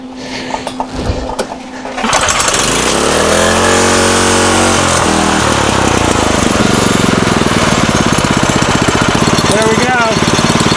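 A homemade buggy engine cranks after a few light clicks and catches, then runs loud and steady with a rough, buzzing idle that rises and falls slightly, close by.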